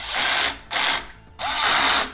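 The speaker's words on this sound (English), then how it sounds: "So I have my little power drill here. I can actually set it to a very low torque, so I'm not going to over torque it" A power drill set to low torque drives bolts on a Magene MG80 smart spin bike in three loud whirring bursts separated by brief pauses, with no talking.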